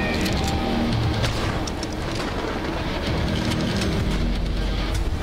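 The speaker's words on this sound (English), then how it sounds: "Oh, we're on the train." A train rumbles along in the video game Choo-Choo Charles, a steady low mechanical roar with faint rhythmic clatter and scattered metallic clicks, loud and continuous without talk.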